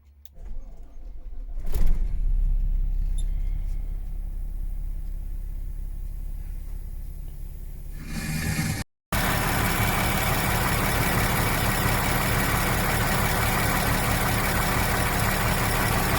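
A diesel camping car engine catches after a brief start and settles into a steady, rumbling idle that continues for the rest of the stretch, with a short break partway through.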